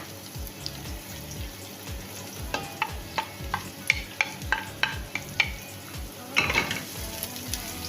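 Chopped onion dropped into hot cooking oil in a frying pan, sizzling under a run of sharp scraping stirs, each a distinct clack, with a louder burst of crackle toward the end.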